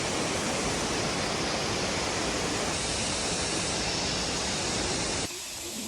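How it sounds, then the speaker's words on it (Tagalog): Steady broadband rush of a waterfall on the Lo Fu Tau Country Trail, loud and constant, close by and filling the whole range, ending abruptly near the close. "Dumaan lang ako saglit doon sa waterfalls."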